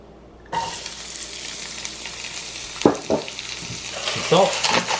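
White onions hit hot bacon fat in a pan, setting off a steady close sizzle, with a few brief stirring clatters of a utensil against the pan, as kimchi fried rice is cooked.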